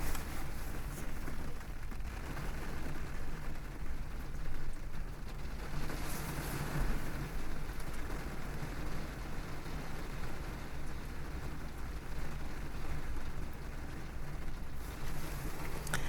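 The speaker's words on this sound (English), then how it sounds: "I'm just going to let you hear the rain" Rain and wind outside during a storm, heard from indoors as a continuous mid-level rushing wash with gusty swells, steady throughout the whole stretch.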